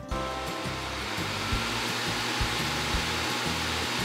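Steady airy whoosh from a Dyson Hot + Cool AM04 fan, holding at a constant level throughout with a soft low rumble underneath and no talking.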